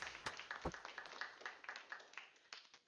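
Applause at a GUADEC conference session, a scattered burst of individual hand claps from a small audience, close and fairly faint, thinning out toward the end.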